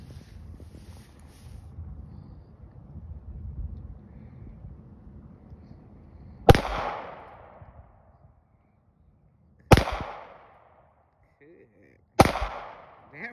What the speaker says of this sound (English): Target practice outside with the Wiggins